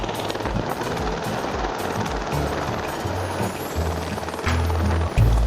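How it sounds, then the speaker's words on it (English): Firefighting helicopter hovering low to fill its water bucket from a nearby swimming pool: a loud, steady rotor chop with deep thudding pulses and engine whine, close and continuous. "when a helicopter needed more water to put a fire out, they did a last resort move, in which the pilot took the helicopter to a nearby pool"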